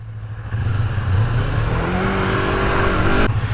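A Yamaha R25 motorcycle engine revs hard and climbs steadily in pitch, held near the top of its rev range in a short, loud, close burst during a small drag run.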